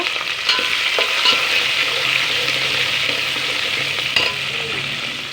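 Green chilies, onion and carrot sizzle steadily in a hot pan for tomato bath, a continuous close frying hiss with a few sharp clinks of a stirring spoon and no voices.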